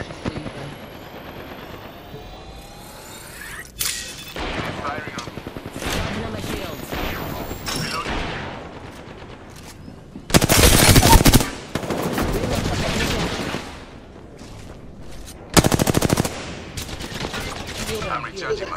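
Gunfire in the video game Apex Legends, with automatic bursts rattling throughout and two especially loud, dense volleys standing out in the second half, while players talk over the action.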